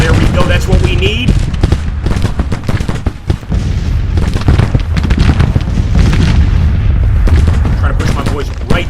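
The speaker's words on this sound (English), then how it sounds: "Come on, return fire, return fire." Musket volleys and artillery from a Civil War battle in the video game Grand Tactician: The Civil War, a loud, dense crackle of overlapping shots and deep booms that continues without a break.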